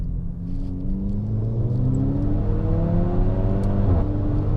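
A Mk5 VW GTI accelerating flat out from 2,500 rpm, its engine note climbing steadily as boost builds, loud and close from inside the car with a constant road rumble underneath.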